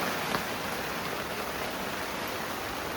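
Steady rain hisses over a small river during a fishing trip, a dense even wash of drops close by with no voices, constant in level throughout.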